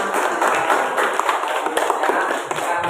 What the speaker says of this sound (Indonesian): berikan tepuk tangan untuk Anda